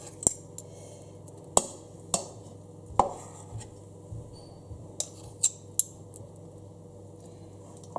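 A spoon scrapes and taps against muffin moulds while raspberry muffin batter is scooped in, giving scattered sharp clinks and soft scrapes at close range, alone without talk.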